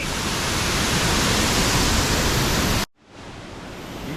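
Bang Pae Waterfall in Phuket, Thailand, roars as a loud, steady broadband rush of falling water that cuts off abruptly near the end, leaving a quieter hiss.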